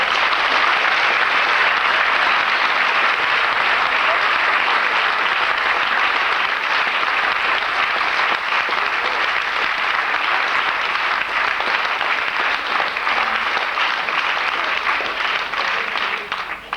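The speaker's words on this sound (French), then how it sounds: "je vous prie de les applaudir très fort." Loud, sustained applause from a large audience at a gymnastics club evening show in Avenches, Switzerland, honouring the instructors. The dense, even clapping fills the whole stretch without a break.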